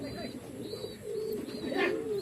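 Pigeons cooing in a loft, soft repeated low coos close by with faint higher chirps, over a steady background with a voice talking nearby.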